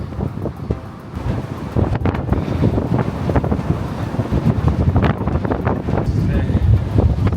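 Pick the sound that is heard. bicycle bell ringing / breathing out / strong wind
strong wind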